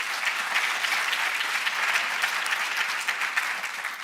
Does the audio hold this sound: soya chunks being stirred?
no